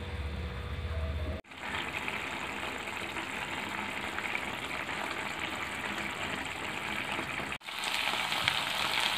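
Ivy gourd cooking in a little water and oil inside a covered pan, a continuous close sizzling bubble that holds steady for several seconds with a brief break near the start and another near the end.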